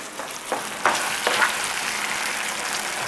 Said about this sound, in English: let that simmer just enough to get the vegetables tender